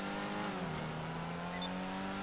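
Steady close engine note from an Ocelot Ardent sports car driven in GTA Online, holding a sustained revving tone that sags slightly partway through, loud and continuous with no voices.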